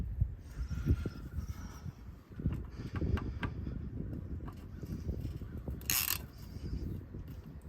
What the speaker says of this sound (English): I give it an extra turn with the wrench.